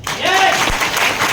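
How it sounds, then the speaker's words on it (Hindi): Audience applause at a seminar in Jabalpur, a dense wash of clapping that fills the whole short stretch at steady loudness, with a brief voice and a few whistle-like tones poking through. "एक बार ताली बजाइए साहब।"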